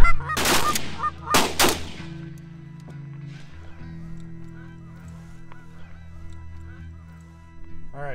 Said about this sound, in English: I just spotted the first flock in the air up here, and the geese know how to find the other geese